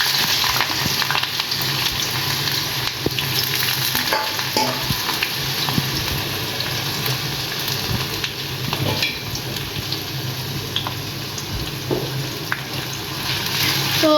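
Chopped onions frying in plenty of hot oil for birista in a Bengali pork biryani, a steady, close, dense sizzle and crackle with occasional stirring clinks, continuous throughout with no talking.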